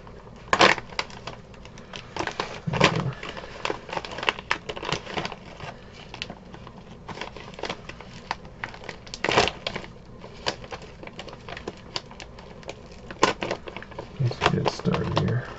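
A mail envelope is opened slowly by hand, with crinkling, tearing paper and rustling in irregular bursts close by, and a voice speaking between the sounds.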